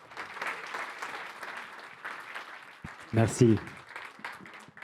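An audience at the second Carbone Connect forum in Lyon applauds steadily throughout, a dense patter of many hands in a conference room, with someone speaking briefly over the clapping near the end.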